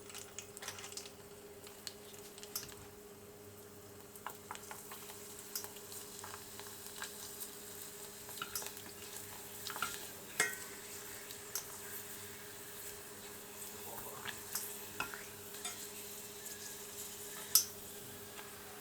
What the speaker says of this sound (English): Heat a neutral oil in a small pot or frying pan, then fry shrimp crackers according to package instructions.